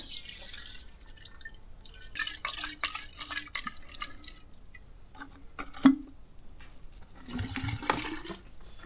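Water splashes, gurgles and drips while sawdust is flushed out of a vintage Husqvarna 162 chainsaw, with intermittent bursts of pouring and running water, fairly close and moderately quiet, and no talking.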